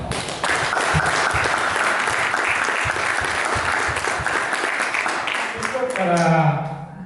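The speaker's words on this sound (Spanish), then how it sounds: "Queremos darle las gracias a don Mario Garcés y a don Sergio Gués, con un aplauso" Audience applause at a community panel discussion, a steady round of clapping from a roomful of people that swells, holds, then fades as a voice starts speaking at the end.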